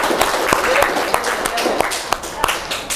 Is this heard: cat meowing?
no